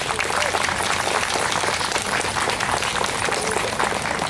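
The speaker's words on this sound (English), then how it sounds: "I want a round of applause for these young people." A crowd at a Canada 150 grand opening in Newcastle, Ontario breaks into sustained, dense applause, many hands clapping steadily throughout, with faint voices mixed in.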